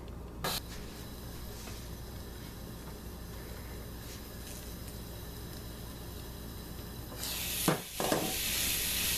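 A portabella mushroom sizzles in a pan with a steady close hiss, rising into a louder burst of frying noise near the end.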